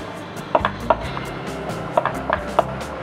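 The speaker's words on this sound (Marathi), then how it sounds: "पराठा लाटायला सुरुवात करूयात" Rolling pin working paratha dough made with drumstick leaves on a board: a handful of light, sharp knocks and taps at an uneven pace over a low, steady room hum, close and fairly quiet.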